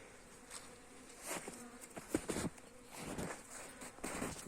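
Honey bees buzz as they fly around garden hives, overlapping drones passing near and far, rising and fading in a faint, continuous hum.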